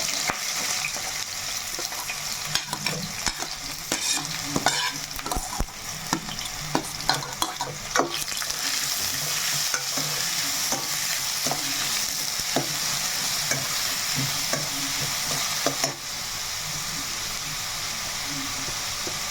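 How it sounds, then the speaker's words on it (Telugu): Onions fry in a pan with a steady loud sizzle, broken by frequent scraping and clinking strokes of a stirring spatula, with the stirring stopping near the end and the sizzle continuing alone. "ఇప్పుడు ఉల్లిపాయలు వేసేస్తున్నాం"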